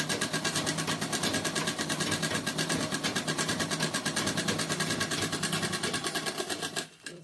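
A sewing machine stitching a bag runs in a fast, even mechanical chatter of repeated needle strokes, close and steady for about seven seconds before it slows and stops, with no talking.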